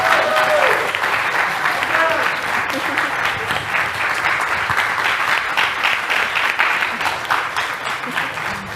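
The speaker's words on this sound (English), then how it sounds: "please applaud these lovely panelists" A comics convention audience at MICE 2023 claps steadily and strongly for a mental health panel, a dense sustained applause throughout, fairly close.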